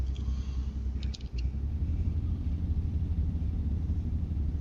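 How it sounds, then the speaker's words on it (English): Deep, steady low-end rumble of a truck's Jake brake in American Truck Simulator, continuous throughout with a brief dip partway, no talking. "I just don't like this Jake brake"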